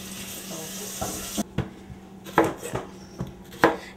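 A knife chops vegetables for frying on a cutting board, giving a handful of close, irregular thunks and clicks after a steady background hum cuts off.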